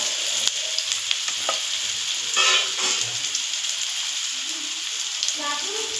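Finely chopped onions fry in a pan toward a reddish brown, a constant close sizzle broken by light scrapes and clinks of stirring.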